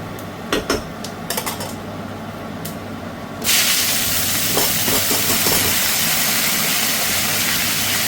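Bottle gourd hits hot oil tempered with five-spice and a dried chilli, setting off a sudden loud, steady sizzle after a few light clinks of kitchenware.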